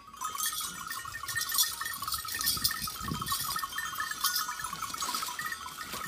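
Goat bleating on a village farm, a few close and fairly faint calls with other livestock noise and a small cowbell-like jingle behind them.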